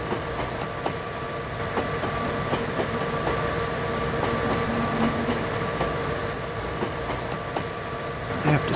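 A train runs along the tracks in the video game 3D Railroad Master, giving a steady rumble with faint rhythmic clicking of wheels over rail joints that carries on throughout, with no talk over it.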